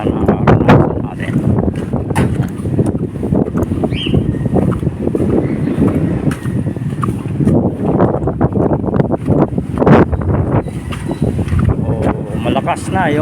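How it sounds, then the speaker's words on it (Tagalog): Strong typhoon wind buffets the microphone on the Baseco seawall, a constant loud roar and rumble throughout with gusty bursts, while someone talks over it. "Malakas na yung hangin."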